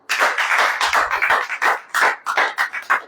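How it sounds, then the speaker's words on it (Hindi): A church congregation claps together in a steady rhythm, about three beats a second, loud and close with no talking. "अब ताली बजाएं।"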